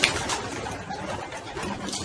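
Pigeons coo amid a dense, steady wash of bird noise that stays loud and continuous, with no voices heard.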